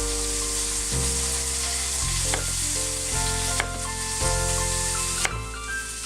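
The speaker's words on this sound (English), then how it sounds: "While your beef sausages are cooking" Beef sausages sizzle and crackle steadily in a hot pan, with occasional sharp pops and a low background hum, no one speaking.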